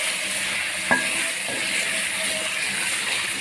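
Potatoes frying with chicken in a pot for aloo gosht, with a steady broad sizzle and hiss throughout, and one faint clink of a utensil early on, close and continuous.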